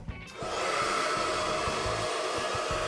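A Genie Vac 4000 genital vacuum cleaner in a parody advertisement switches on at about half a second and runs as a steady, loud, broadband whirring motor drone with a faint tonal whine, with no talking.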